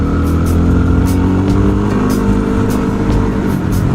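Dual sport motorcycle riding over loose gravel in the morning, its steady mid-range engine drone close and continuous with a rough crunchy texture and faint occasional clicks on top, no talking.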